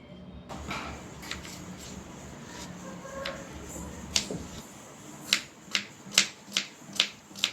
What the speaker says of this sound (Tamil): முள்ளங்கி கட் பண்ணிக்கலாம்.